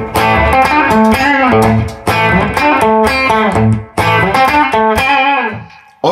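Clean electric guitar with no effects plays three loud, ringing strummed chord phrases, each fading briefly before the next, with no talking.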